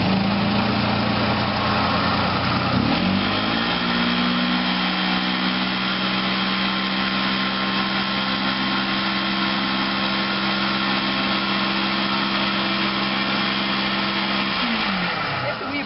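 Carpet cleaning machine agitating a carpet after a cleaning agent is sprayed on, a loud continuous motor whine with a steady hum that ramps up early and winds down at the very end.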